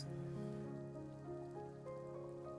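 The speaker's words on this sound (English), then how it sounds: "This is the first time I've ever seen it rain." Rain falls in the Wanderstop video game as a soft, steady patter, faint and even, layered under a sustained tonal music bed for a few seconds.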